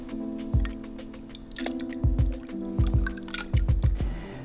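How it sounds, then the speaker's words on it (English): Water runs into a homebrew kettle with a steady low hum beneath, broken by a series of hollow drips and splashes that land in irregular clusters, close and fairly quiet. "the first step is filling the kettle"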